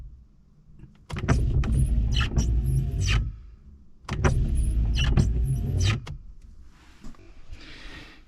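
Old, rusty, crusty windscreen wipers on a car sweep across the glass in two long strokes, each a few seconds of dry scraping and juddering with a motor whine, separated by pauses, close and fairly loud.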